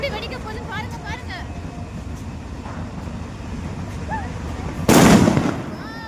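A Diwali firecracker goes off outdoors with one sudden loud blast near the end, followed by a brief crackling decay, after several seconds of background chatter and children's voices.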